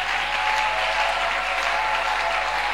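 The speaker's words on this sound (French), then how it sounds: "il mérite quand même nos acclamations" A church congregation applauds during a sermon, a dense, even wash of clapping that holds steady throughout without voices.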